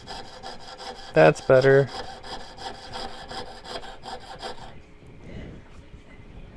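A saw blade coated in wax cuts through a metal fork, making steady, close back-and-forth rasping strokes that keep going after a brief spoken remark, then fade near the end.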